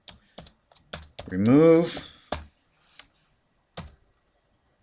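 Computer keyboard typing a folder name, a few sharp close keystrokes spaced irregularly, with a single spoken word in the middle.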